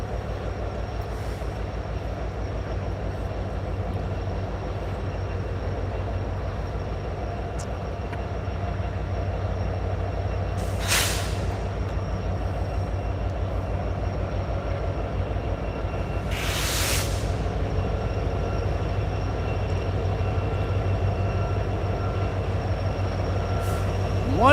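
Norfolk Southern locomotive 1102 rolls past a trackside signal post with a steady, heavy rumble of wheels and engine, punctuated by two sharp hissing bursts, continuing throughout at close range.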